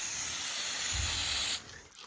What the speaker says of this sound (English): I'm just going to work my way upwards, spraying upwards to get underneath all these feathers